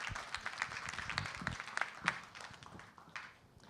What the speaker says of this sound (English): One round of applause for them again.